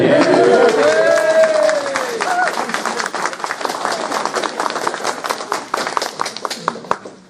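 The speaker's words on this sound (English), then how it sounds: "Big cheer for David Duke." A conference audience cheers loudly, starting with a swell of voices and shouts that gives way to dense, steady clapping which gradually tapers off.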